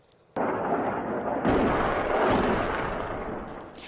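Cruise missiles launch in a salvo from the Russian warship Admiral Grigorovich: a sudden loud blast followed by a sustained roaring rush of rocket exhaust, a second surge joining partway, then slowly fading.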